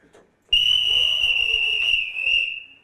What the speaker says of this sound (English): the welcome welcome sound of the halftime whistle